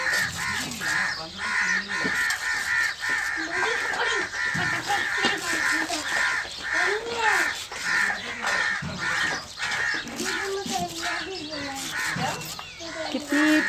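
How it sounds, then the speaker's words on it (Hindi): Birds caw and call repeatedly at mid distance outdoors while mustard greens are cut for sarson ka saag, a steady chorus of harsh cries with some softer chirps layered underneath. "कितनी प्यारी चिड़ियों की जो है वो आवाज़ आ रही है।"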